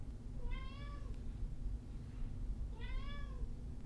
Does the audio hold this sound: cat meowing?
yes